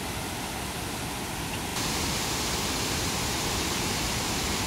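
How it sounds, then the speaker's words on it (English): Waterfall on the Akerselva river in Oslo, a constant broadband rushing roar that holds steady and grows slightly louder and brighter partway through, with no voices. "Another waterfall."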